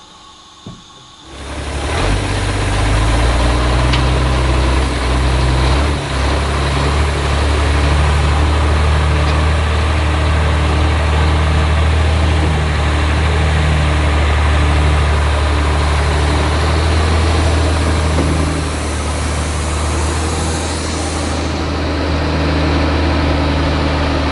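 The engine of an old bus starts up and settles into a loud, steady low-pitched idle that runs unbroken for over twenty seconds, heard close with no talking.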